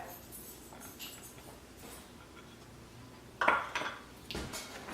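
A spoon stirs a coffee and sugar scrub with almond oil in a bowl, giving soft, scraping, gritty strokes and a few sharper clinks against the bowl, all close and fairly quiet.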